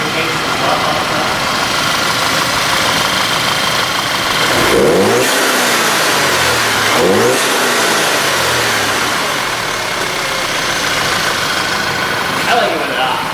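An Audi B8 2.0T engine fitted with an AEM intake, a loud close engine drone that rises in two distinct revs over a steady running hum, with voices talking over it.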